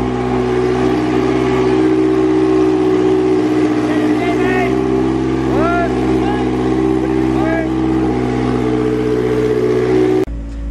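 A naturally aspirated hot rod engine revs hard and steadily on a power run, a loud, dense, sustained roar with rising and falling pitch sweeps for about ten seconds before cutting off abruptly.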